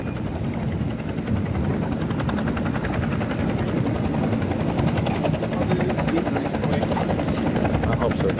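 A helicopter in flight gives a steady, loud rotor chop and engine whine that continues without a break from start to finish.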